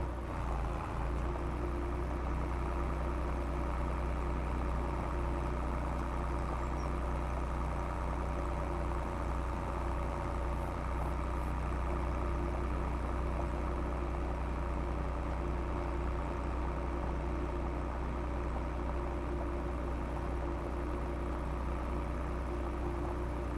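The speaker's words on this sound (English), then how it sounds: "taking our tractor all the way out there" A tractor engine in Farming Simulator 25 drones steadily while driving, a constant low rumbling hum with no changes in pitch or pace, loud and unbroken.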